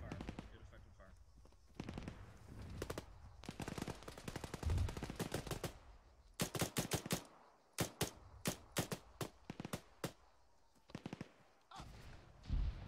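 Arma 3 gunfire in a Gulf War Operation Desert Storm battle: rapid bursts and single shots crack out loudly, with a dense automatic volley in the middle, while voices talk between the shots.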